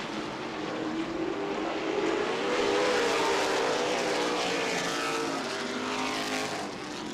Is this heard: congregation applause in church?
no